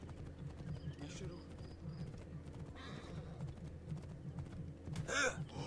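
A horse in the video game Assassin's Creed Origins clops along with steady hoofbeats and a whinny near the end, heard quietly under game ambience.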